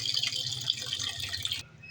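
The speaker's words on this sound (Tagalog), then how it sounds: "Tubig, hugasan." Tap water runs over raw chicken and pork being washed in a kitchen for adobo, a close, splashy stream that cuts off sharply near the end, with no talking.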